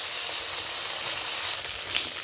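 Fish sizzles steadily in hot oil in a wok after being flipped, cooked ahead of a pointed gourd and potato fish curry. The frying hiss is close and continuous, with no talking.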